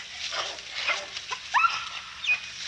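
Bay dogs working a hunted animal, likely a wild hog, on a dangerous hunt without a catch dog, giving whines and yelps amid rustling brush and muffled voices at moderate distance.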